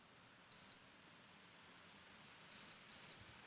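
Holy Stone 360E drone beeping while it connects, three short clean electronic beeps, one alone and then a quick pair, against a quiet room hiss.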